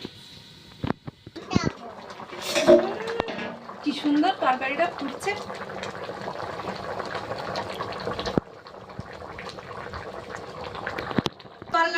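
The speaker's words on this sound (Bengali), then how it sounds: "তেলটা হয়ে গিয়েছে এবার কিন্তু তরকারিটা ঢেলে দেবো" Fish curry with taro being poured into hot oil in a pan gives a loud sizzle and bubbling that settles into steady frying, with a voice and other talk over it.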